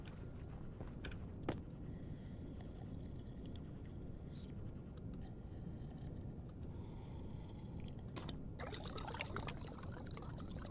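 Water being drunk in the survival game Stationeers on a brutal Europa map produces a steady, gurgling pour of liquid that runs for about ten seconds, with a couple of faint clicks and no talking.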